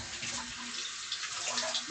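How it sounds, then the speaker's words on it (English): Tap water runs steadily over cream-cheese-coated fingers at a kitchen sink during holiday cooking, a continuous close hiss with small splashy changes and no talking. "kind of wash these down a little bitty bit"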